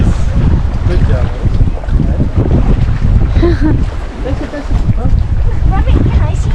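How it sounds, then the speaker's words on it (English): Strong wind gusts roar across the microphone at Convict Lake along California's Highway 395, a loud, continuous rumble that dips briefly midway, with voices talking faintly beneath it. "Oh, it's so windy here."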